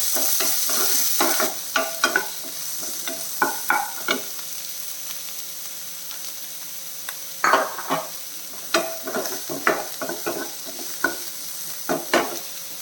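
Chopped onions go into hot oil with cumin seeds and sizzle steadily, with an initial burst and then repeated scraping stirs of a spoon in the pan. The sounds are close and there is no talk.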